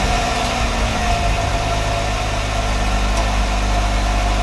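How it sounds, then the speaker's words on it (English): A 2016 Jeep Wrangler's V6 engine idles steadily, a close, even low rumble with mild vibration and no talking; a distinct start-up is not evident. "Starts up, and it does have a V6 engine"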